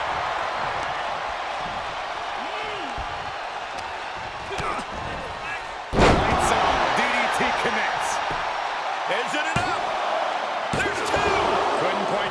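In a WWE 2K23 match, a wrestler is slammed midway with a sharp thud over a steady arena crowd roar, while a commentator talks throughout.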